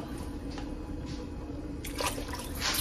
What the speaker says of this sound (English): I poured in there about 2 cups of stock